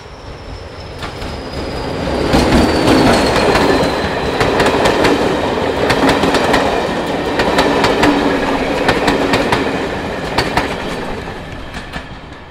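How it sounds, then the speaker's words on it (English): A Class 20 diesel locomotive hauls a train up the gradient out of Alresford on a heritage line, with a steady engine roar, a fading high whine and repeated wheel clicks over rail joints, loud and close and without voices. "Now with full tanks, the Class 20 makes easy work of the gradient out of Alresford."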